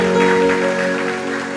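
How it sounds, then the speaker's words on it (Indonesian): Church congregation clapping together during a worship service, a steady dense wash of applause with music tones sustained underneath throughout. "Berikan tepuk tangan meriah buat Tuhan kita"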